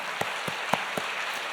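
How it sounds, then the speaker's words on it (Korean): A Korean Full Gospel church congregation applauds during Sunday worship, a steady hiss of many hands with a few sharper claps standing out near the front. "우리 하나님께 영광의 박수 올려드리겠습니다."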